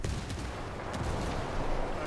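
A grenade explodes in the video game Ghost Recon Wildlands, a loud, dense low boom that rumbles continuously under heavy gunfire across the whole stretch.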